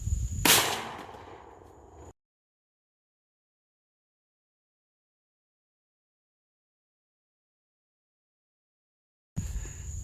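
A single rifle shot fired at a carbon steel target 50 yards away: one loud, sharp crack with a brief decaying ring, followed by a long stretch of silence.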